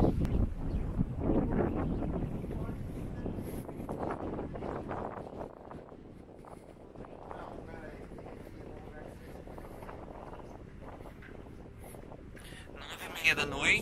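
Strong wind buffets the microphone at an exposed Algarve coastal spot, rumbling in irregular low gusts throughout, heaviest at the start and easing somewhat later.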